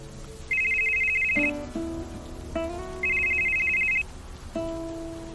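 A mobile phone plays an electronic ringtone indoors, loud and close, with two long steady tones separated by a brief melodic pattern of shorter notes, heard alone.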